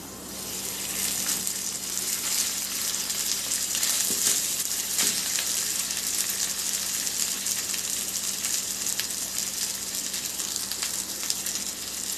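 Rice tipped into a hot pan with fried garlic for chicken fried rice sets off a continuous, even sizzle up close, a dense hissing crackle with a few brief stirring knocks and no speech.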